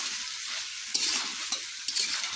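Onion stalks frying in oil in a pan, a continuous bright sizzle with a few sharp clinks of a spoon stirring, close and without talk.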